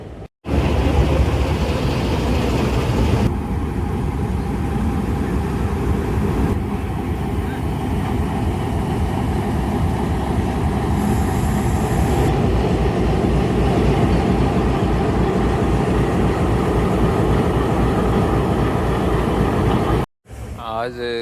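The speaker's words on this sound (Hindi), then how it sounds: "PSJ 208315 आज लीड करेगा शटल ट्रेन को सरगोदा से लाला मूसा।" Shuttle train led by PSJ locomotive 208315 running from Sargodha to Lala Musa, heard from inside as a loud, steady rumble with rhythmic wheel clatter on the rails, ending in a sudden cut.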